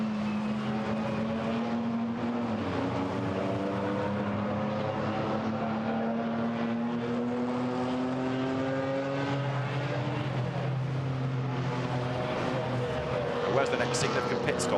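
A GT4 race car at Monza accelerates, its engine note rising and shifting through gears as it pulls away, heard mid-distance under continuous commentary.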